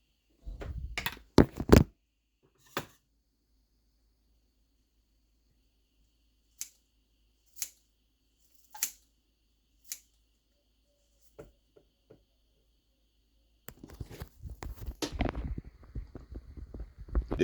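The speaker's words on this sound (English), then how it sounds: "I like to cut it with scissors so that the smaller pieces" Scissors snip through a bunch of fresh cilantro, a few sharp isolated cuts scattered across a mostly quiet stretch, followed by a denser rustle of handling near the end.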